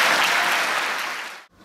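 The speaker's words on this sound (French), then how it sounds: "Il faut l'applaudir très très fort, il le mérite vraiment." Loud, dense applause from an audience at a Rotary concert event, fading gradually before cutting off abruptly near the end.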